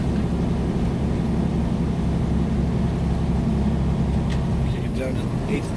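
A heavily loaded semi truck carrying 75,000 pounds climbs a highway grade at about 36 mph in cold weather, its engine a steady, loud, continuous low drone throughout.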